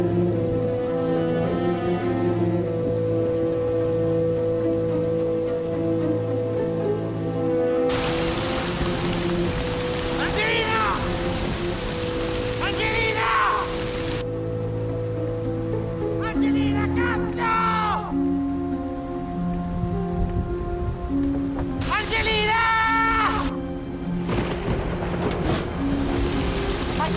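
Heavy rain pours down in a steady broadband hiss through a night scene, with rumbling thunder and music underneath and voices calling out over it at intervals.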